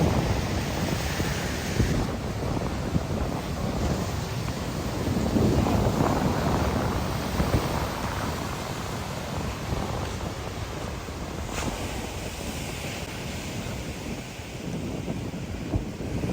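Sea waves wash steadily onto a shore beside a broken seaside walkway, making a continuous broad roar mixed with heavy wind buffeting the microphone and no voices.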